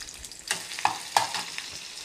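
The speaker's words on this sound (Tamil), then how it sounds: "எண்ணெய் சூடானது இந்த வெங்காயத்தை போட்டு தாளிக்கணும்." Onions fry in hot coconut oil with a soft, steady sizzle, punctuated by a few light clinks of a utensil stirring the pan.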